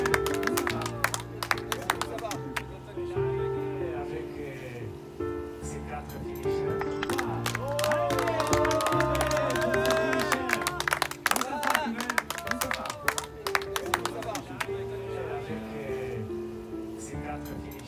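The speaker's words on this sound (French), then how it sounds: "On va applaudir ces messieurs" Crowd applause and clapping for runners finishing the Swiss Peaks 360 km mountain ultra-trail, steady scattered clapping mixed with music and people talking nearby throughout.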